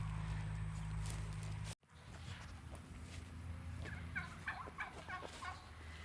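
Free-ranging backyard turkeys gobble in a run of short, bubbling calls in the latter half, moderately near, over a low outdoor hum, with a few soft footsteps and rustles nearby.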